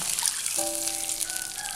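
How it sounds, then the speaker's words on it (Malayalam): About 250 ml of water is poured into a pan of fried onion for semolina balls, making a faint, short trickle with a rising tone as the liquid fills. "ഇനി ഇതിലേക്ക് വെള്ളം ചേർക്കാം"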